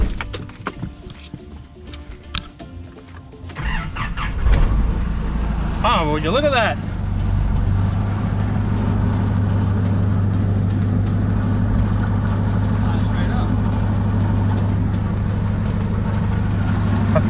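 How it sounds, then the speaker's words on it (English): A truck engine, started after months of sitting, cranks and catches, then settles into a loud, steady low rumble through a 3-inch exhaust that continues throughout, with a person speaking briefly over it. "Let's chuck a battery in and see if she fires up"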